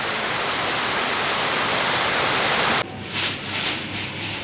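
Steady, dense rain hiss fills the first few seconds, then abruptly drops to a softer, patchier wash of falling rain.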